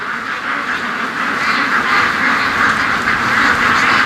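A large group of ducks clumped together on a windy lakeshore gives a steady, dense chorus of quacking, loud and continuous with constant wind noise behind it.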